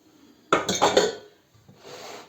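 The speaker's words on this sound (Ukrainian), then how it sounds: "Висипаємо це все, що я молила, сало, е, телятину і тут все висипаємо сюди" Minced pork fat and veal tipped into a bowl in the kitchen, a sudden loud clatter and scrape of utensil against the bowl for about a second, then a softer rustle as the meat settles.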